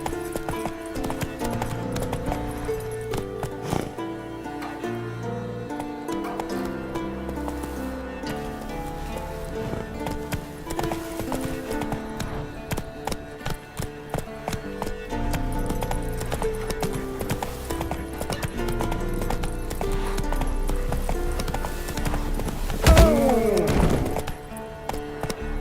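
A horse's hooves clopping at speed in The Witcher 3: Wild Hunt, a steady, repeated galloping rhythm heard close over a game soundtrack, with a brief whinny-like cry near the end.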